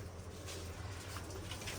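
Pigeons coo softly in their coop in hot weather, a faint low rhythmic cooing under steady background noise.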